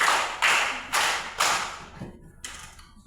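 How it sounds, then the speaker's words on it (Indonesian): A primary school class claps hands together four times in crisp unison, the first three evenly spaced and the last after a slightly longer pause, with no voices over them. "Tepuk tangan 4 kali."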